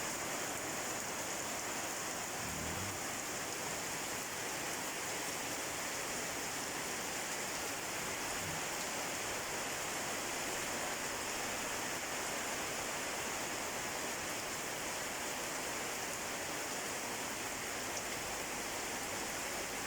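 A constant, dense roar of heavy rain pours without pause, a broad steady hiss with no voices.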